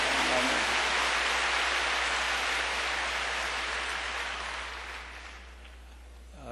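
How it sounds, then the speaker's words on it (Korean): Sustained applause from a church congregation at a Yoido Full Gospel Church service, a dense, steady wash of clapping that stays loud and gradually thins toward the end. "우리 하나님께 큰 박수 올려드리십시다"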